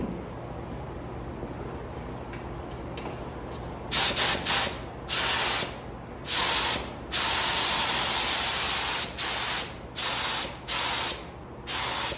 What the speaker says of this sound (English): Spray this through here.